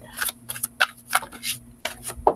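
Crisp riffling and soft slapping bursts of a deck of cards being shuffled, several quick flurries close by, with faint murmuring underneath.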